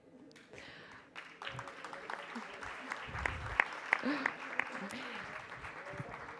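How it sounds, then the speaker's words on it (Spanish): An audience at a global university symposium breaks into applause that builds into a sustained burst of clapping, with a voice speaking over it. "Y lo acogimos con un fuerte aplauso también"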